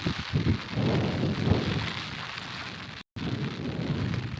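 Steady rainfall hisses softly at a distance with faint low rumbles, broken by one brief cut to silence.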